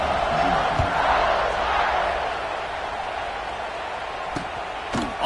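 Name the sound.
football stadium crowd buzzing after a score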